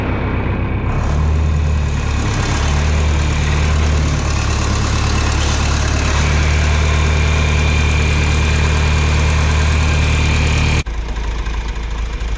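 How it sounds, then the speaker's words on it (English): A John Deere 3020 tractor's engine runs steadily at idle, a loud, close diesel rumble with a faint knock that holds for about eleven seconds before cutting off abruptly. "This is a 3020, a little bit smaller tractor."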